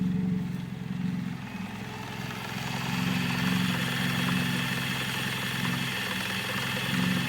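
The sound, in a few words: Toyota Corolla KE30 engine idling after first start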